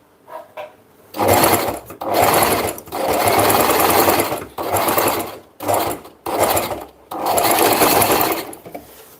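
A sewing machine stitches fabric in several loud bursts of running stitches, including back stitching at the start of a seam, with short pauses between runs.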